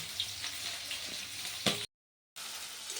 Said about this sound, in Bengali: পেঁয়াজটা দিয়ে দেবো তেলের মধ্যে